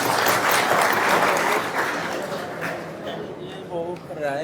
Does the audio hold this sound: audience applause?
yes